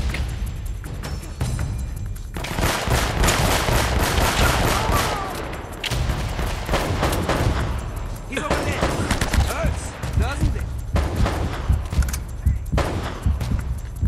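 Rapid bursts of gunfire from Uncharted: Drake's Fortune, loud and sustained over about fourteen seconds, with brief lulls and a voice talking through the shooting.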